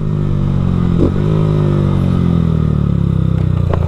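Honda Fan 160 motorcycle with a Dore exhaust downshifting under engine braking, a loud close single-cylinder drone whose pitch drops and steadies into a rapid pulsing burble.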